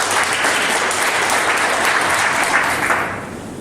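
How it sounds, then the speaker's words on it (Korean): An audience at a presentation-contest event claps in a dense, sustained burst of applause that holds steady for about three seconds and then tapers off. "박수 한번 다시 한번 주시면 감사드리겠습니다."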